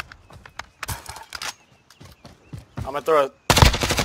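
Sharp, rapid bursts of gunfire from a Warzone match crack in uneven clusters, ending in a loud dense volley, while a player speaks briefly among the shots.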